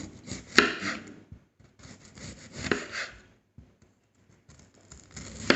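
A knife cuts a small onion into round slices on a board in several short bursts of crisp slicing and scraping strokes, separated by brief silences.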